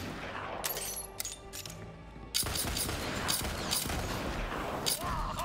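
Rapid gunfire from the Borderlands 3 shooter game, scattered shots at first then a dense continuous fusillade with crackling impacts, loud and close.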